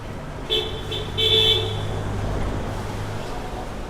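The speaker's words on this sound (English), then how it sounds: "Already can hear all the subway noise and the honking." Car horns honk in New York City street traffic, two short toots then a longer blast, fairly close, over a steady low rumble of passing vehicles and road noise.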